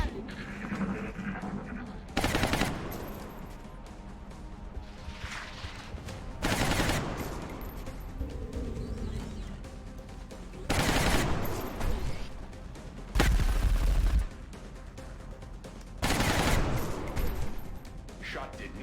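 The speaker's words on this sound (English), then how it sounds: "taking heavy fire over here." Heavy volleys of gunfire erupt in the turn-based strategy game XCOM Long War, about five loud crashing bursts spaced several seconds apart over a steady, low background rumble.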